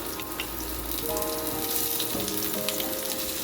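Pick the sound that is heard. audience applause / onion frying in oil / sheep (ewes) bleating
onion frying in oil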